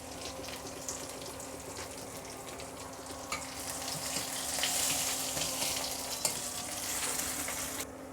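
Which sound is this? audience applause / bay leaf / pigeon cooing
bay leaf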